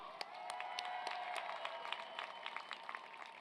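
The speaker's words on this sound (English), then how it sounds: "So give a round of applause to yourselves as well" Graduates at a college commencement ceremony applaud themselves, a steady spread of clapping with crowd noise at moderate level, scattered sharper claps standing out through the few seconds.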